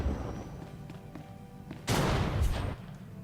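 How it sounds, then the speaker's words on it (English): Explosions in the video game Star Wars: The Old Republic: a faint rumbling background breaks into a sudden louder burst of blasts lasting under a second before settling back. "I wish they'd fix those explosions."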